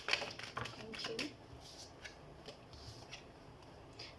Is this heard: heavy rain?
no